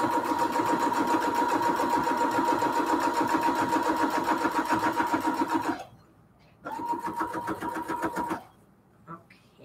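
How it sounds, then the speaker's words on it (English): A sewing machine stitches a cathedral window quilt pillow case, running steadily and loud for about six seconds, pausing, then whirring again in a shorter burst before stopping. "Especially when you're sewing."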